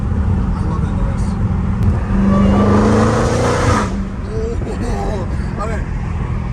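Dodge Hellcat Redeye running only a mid-muffler, its engine revving loudly in a rising then falling surge at a drift meet, with steady rumble and voices talking over it.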